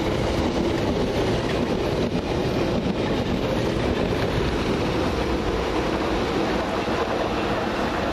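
London Underground Piccadilly line train bound for Cockfosters rumbles past at Stamford Brook, giving a loud continuous roar of wheels and wind with no pauses. No voices are heard.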